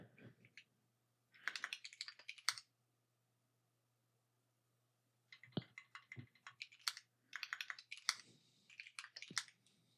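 Bursts of keystrokes clatter on a computer keyboard while working at a terminal: a short flurry, a long pause, then a longer run of quick, close clicks with uneven rhythm, no voices.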